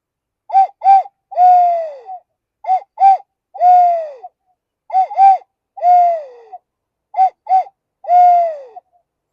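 A Eurasian collared dove calls four times, each a clear three-note coo with two short notes and a longer falling one, evenly spaced, close and alone with no other sound.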